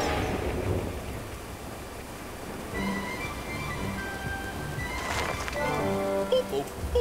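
A thunderstorm with lightning and rain sweeps across open country, a steady roar of rainfall with low rumbling thunder building toward a louder crack near the end, faint voices mixed in.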